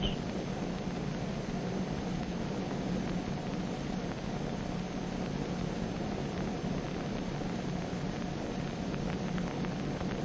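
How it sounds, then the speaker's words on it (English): A bomber aircraft drones over the target area during the 1946 Operation Crossroads atomic test, a steady, unbroken roar heard through a noisy old film recording. "The bomber is over the target."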